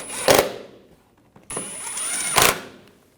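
A tool snugs down bolts while a serpentine belt is replaced on a 2011-2018 Volkswagen TDI Jetta Wagon: two short bursts of a ratcheting, whirring power tool, each ending in a sharp rattling spike, separated by a brief pause.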